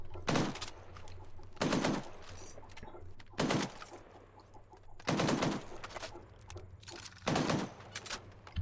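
Gunfire in the military video game ArmA, heard as five loud broadband bursts of rapid fire spaced a second or two apart, close and harsh over a continuous engine-like rumble.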